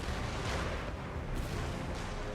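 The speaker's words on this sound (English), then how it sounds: "Oh yes, the cannons." Cannon artillery fire in the strategy game Empire: Total War, a dense rumbling barrage of booms blending together, loud and continuous over the whole stretch.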